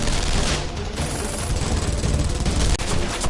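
Dense, continuous volley of gunfire in a Guilty Gear Strive story scene, a loud rapid fusillade that fills the whole moment with no break.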